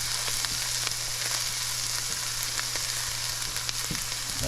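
Onions and shrimp fry in hot oil in a pan, giving a steady, close, crackling sizzle with scattered pops and a faint low hum beneath, and no one speaks.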